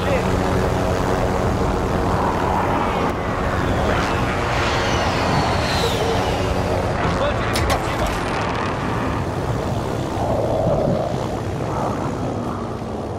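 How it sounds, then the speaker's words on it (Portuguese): Helicopter in the Warzone battle royale video game, a steady loud rotor and engine drone running through the whole stretch, with players talking over it. "Vamos subir com o helicóptero."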